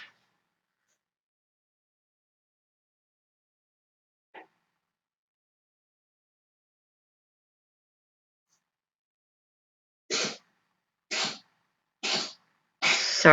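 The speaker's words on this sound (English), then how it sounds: "my dog is coughing" A dog coughs in four sharp, raspy bursts about a second apart, fairly close, after a long near-silent stretch with one faint tiny sound.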